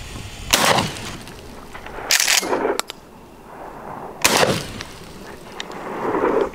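Short-barrel shotgun fired at a box target outdoors: two loud, sharp blasts a couple of seconds apart, each with a brief rolling echo, plus a clack between them.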